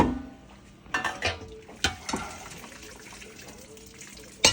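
Blanched carrots are strained in a kitchen, with water splashing and draining out and a few sharp metal knocks from the pot and strainer, close up.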